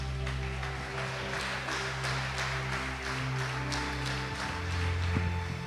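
A church congregation applauds steadily, the clapping broad and sustained throughout beneath a bed of held musical tones.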